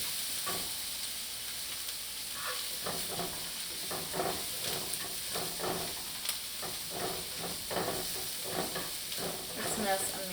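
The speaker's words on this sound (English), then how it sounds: "just that onion, ginger, and garlic sauteing well" Red onion, ginger and garlic sauté in a pan with a steady, close sizzle, overlaid by a run of regular scraping stirs from about two seconds onward.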